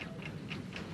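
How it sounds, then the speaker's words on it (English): A bomb's timer ticks in an even rhythm, four soft clicks within a second, faint and close over a low background hiss. "Can you hear it ticking?"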